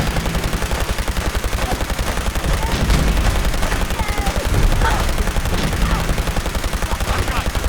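Rapid, steady bursts of laser rifle fire in the video game Fallout 4, loud and close, repeating in quick succession throughout.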